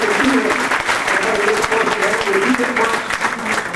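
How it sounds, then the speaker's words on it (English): Audience clapping steadily at a kart club awards banquet, a dense sustained round of applause from a room of people, with voices mixed in. "Let's give him a round of applause."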